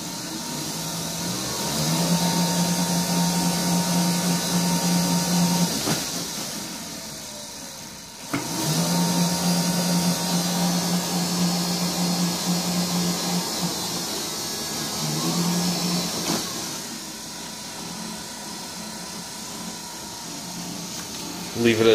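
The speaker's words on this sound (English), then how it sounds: "I put the bike up on a jack so we can let the wheel spin freely." Electric trike with a BMX front end, its motor spinning the raised wheel freely while the bike sits on a jack: a steady electric hum and whir that runs in long stretches with brief dips, fairly close.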